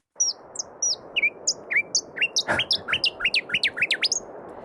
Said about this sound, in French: aller enregistrer des chants d'oiseaux menacés de disparition un peu partout en Australie